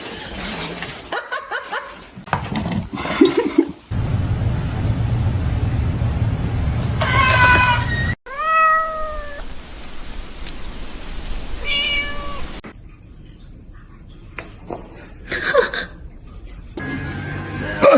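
Cats meowing, several distinct high meows scattered among shifting background noise and bursts of sound, fairly close and loud, with some voices and chuckling mixed in.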